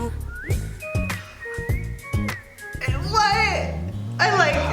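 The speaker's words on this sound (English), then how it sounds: "There's your whistling." A person whistles a short series of bright, clear notes in a melodic line, close by, followed by a sustained tune-like whistled phrase, with people talking and reacting around it.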